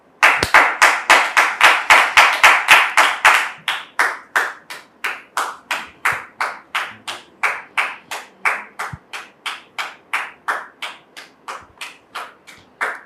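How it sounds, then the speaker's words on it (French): Rhythmic unison clapping, loud and fast at first, then slowing into a steady, evenly spaced beat of sharp claps. "Sous vos applaudissements, s'il vous plaît"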